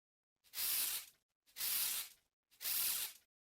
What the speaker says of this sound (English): there's this little kabasa part,